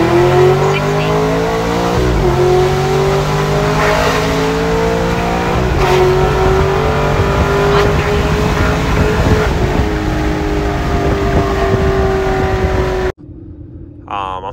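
A Vortech-supercharged Ford Mustang accelerates hard on a highway, its engine note climbing steadily through several gear changes, loud and close from inside the car, ending abruptly with a short quieter cabin moment.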